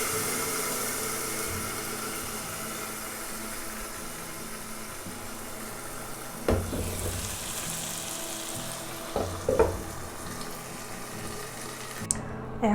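Broth poured into a pan of onions frying for butter dal bhuna. A steady sizzle runs throughout, with a few brief splashes and bumps partway through and no talking.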